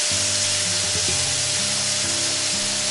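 Garlic and ginger mixture sizzles in hot oil in a wok during a ribeye steak stir-fry. A steady broadband hiss runs throughout, with a low hum underneath and no talking.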